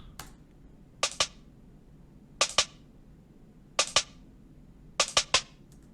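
A snare roll drum fill with variation comes through as sparse, crisp electronic snare hits grouped in quick pairs and triplets, evenly spaced and close, with nothing else under them.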